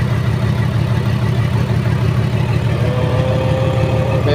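An overhauled generator engine runs steadily close by, a loud, even low-pitched chugging throb with a faint whine appearing near the end, and no talk over it.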